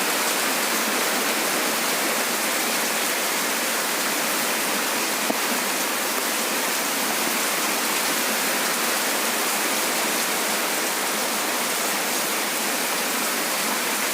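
Heavy, sudden cloudburst-like rain in Nanded district, a dense steady roar of downpour with no let-up, loud and close throughout with no voices.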